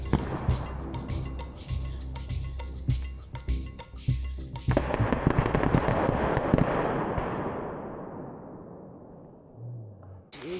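Small rockets strapped to Hot Wheels toy cars fire in a dense, rapid run of sharp crackling pops, then give way to a loud hissing rush that slowly fades, with a short sound near the end.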